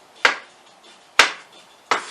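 Three sharp chopping thuds on a cutting board, spaced unevenly about a second apart, close and crisp against a quiet background.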